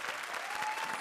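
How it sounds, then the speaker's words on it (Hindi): A studio audience at a televised performance show bursts into loud, dense applause for the duo Krishna and Sudesh, a thick continuous roar of clapping. "जोरदार तालियां कृष्णा और सुदेश के लिए"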